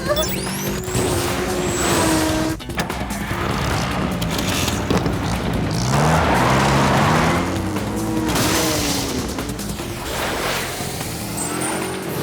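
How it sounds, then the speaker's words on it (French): Tractor engine in an animated spy cartoon, a loud rumbling motor with shifting revving tones and a sharp hiss or thump early on, continuous throughout without speech. "Ça tente quelqu'un, un petit tour de tracteur?"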